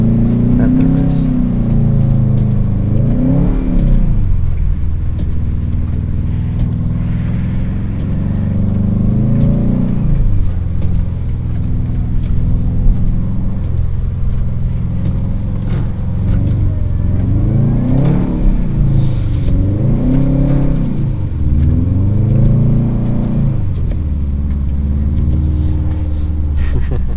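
Subaru WRX STi driving through snow with its engine revving in repeated rising and falling surges, loud and close throughout, with voices talking over the engine.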